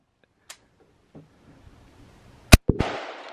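A single sharp gunshot cracks nearby, loud and abrupt, following a few faint clicks and pops, with a brief echoing tail after the blast.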